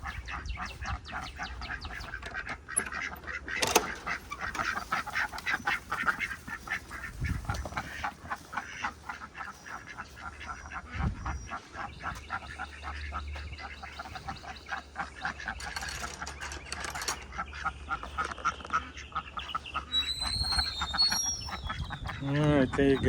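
Ducks quack steadily and loudly over a busy barnyard backdrop as the flock is let out of its pen, with a person talking intermittently throughout.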